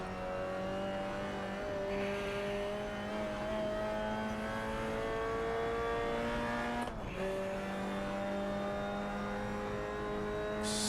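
A 1960s touring car engine drones steadily at Goodwood in Assetto Corsa, pitch climbing through the revs, then a brief dip at a gear change before the loud engine pulls on again; no talk.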